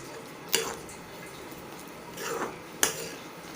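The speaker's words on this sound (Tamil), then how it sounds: "கட்டி இல்லாமல் நல்லா கலந்து விட்டுருங்க" Semolina is mixed into water in a bowl, a quiet soft stirring broken by a few distinct clinks of a spoon against the bowl, about three taps spread over several seconds.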